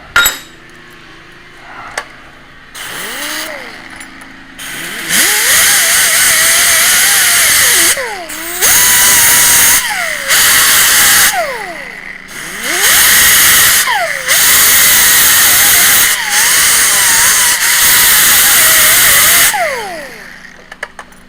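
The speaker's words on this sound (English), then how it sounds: "this time I need to weld it like that" Welding on a zinc-coated sprayer part brings loud, close bursts of harsh crackling hiss lasting a few seconds each, repeated several times with short quieter gaps between, and a few clanks at the start and finish.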